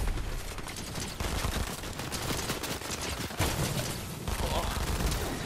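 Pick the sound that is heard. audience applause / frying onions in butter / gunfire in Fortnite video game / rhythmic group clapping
gunfire in Fortnite video game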